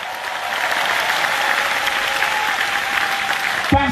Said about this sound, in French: Nous allons acclamer le roi du ciel.